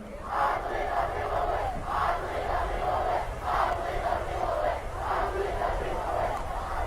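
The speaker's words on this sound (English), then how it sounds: "You hear the Middletown fans, they're cheering" Middletown High School fans cheer at a 2016 Class 2A state championship football game against Fallston, a loud, sustained crowd roar that swells in rhythmic waves throughout.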